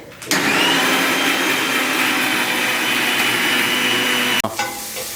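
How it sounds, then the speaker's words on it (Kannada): An electric mixer grinder whirs at full speed for about four seconds while grinding spices with cumin powder for vegetable pulao. The motor noise is loud, steady and close, and it cuts off abruptly near the end. "ಜೀರಿಗೆ ಪುಡಿ ಹಾಕ್ಕೊಂಡು ಮಿಕ್ಸಿ ಮಾಡಿ"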